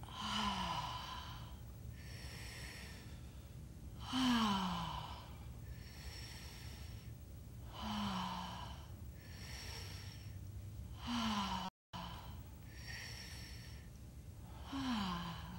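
Slow, deep breaths in and out repeat steadily during a guided sensual breathing exercise, each long inhale and exhale soft, close and unhurried, with quiet pauses between and no talking.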